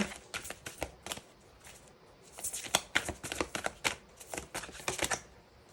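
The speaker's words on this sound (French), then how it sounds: "on va prendre une petite carte de la numérologie" Tarot or numerology cards being shuffled and drawn, a fast run of crisp riffling clicks and flicks in bursts, close and fairly quiet, with no voices.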